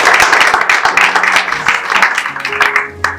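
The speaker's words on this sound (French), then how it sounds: "Est-ce qu'on pourrait les applaudir s'il vous plaît?" Close, loud clapping from an audience at a Burundi film festival in Bujumbura, honoring the hosts of the venue; sharp individual claps stand out in an uneven burst, with a voice briefly audible near the end.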